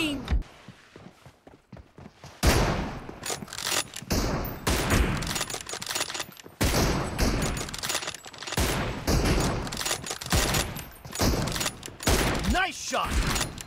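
Dense bursts of gunfire in BGMI, rapid close volleys in several long clusters across the clip, with brief gaps between them and some quieter rattling shots early on.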